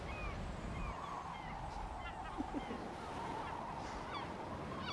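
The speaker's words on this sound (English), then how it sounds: "Are you talking with the seagulls?" Seagulls cry in the Life is Strange video game, several short calls scattered over a steady surf-like wash of seaside ambience, with people talking over it.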